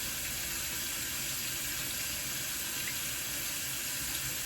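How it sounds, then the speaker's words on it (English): Water runs steadily from a tap while a facial cleansing brush is rinsed under it, a constant broadband hiss and splash with no pauses and no voices. "So I'm going to rinse this off here."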